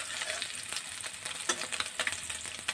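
Small mourala fish fry lightly in a pan, a soft, low sizzle punctuated by scattered crackles and pops, heard close with no talking.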